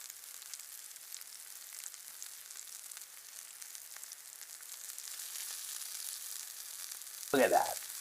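A tomahawk steak sizzles over an open fireplace with a steady, fine crackling hiss that carries throughout, quiet and even, then jumps into a brief louder sputter near the end.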